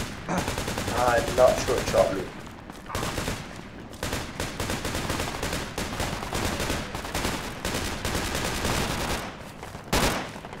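Rapid automatic gunfire and bursts of shots in the military shooter game Project Reality, loud and chaotic throughout, with a voice briefly speaking over the shooting.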